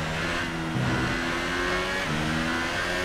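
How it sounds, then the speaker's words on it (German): An F1 car accelerates in the F1 2018 racing game at Silverstone, a steady loud engine drone with rising harmonic pitch through gear changes, continuous and alone. "Gas geben."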